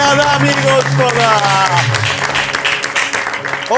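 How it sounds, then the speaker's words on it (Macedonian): Studio audience applause at a television entertainment show, a loud wash of clapping heard beneath prominent talking or singing voices that dominate the foreground. "дайте на аплауз"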